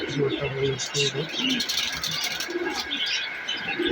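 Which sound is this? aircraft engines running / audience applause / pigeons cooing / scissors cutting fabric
pigeons cooing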